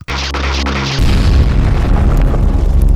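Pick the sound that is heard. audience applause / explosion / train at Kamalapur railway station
explosion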